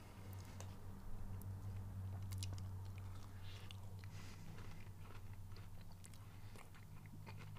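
Faint, close bites and chewing of an Oreo frozen treat with a cone, soft crunches repeating under a low steady room hum, with no talk.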